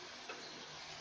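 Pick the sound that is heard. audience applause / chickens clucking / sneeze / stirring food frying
stirring food frying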